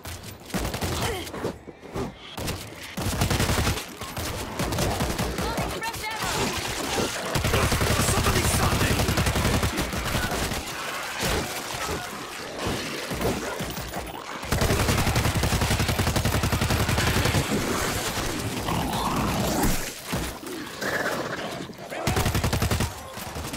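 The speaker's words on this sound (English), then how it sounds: "That's gunfire! From the bus!" Sustained automatic gunfire in the zombie shooter World War Z, a dense, loud barrage of rapid shots that rolls on for most of the stretch with brief lulls, layered with game effects and occasional voices.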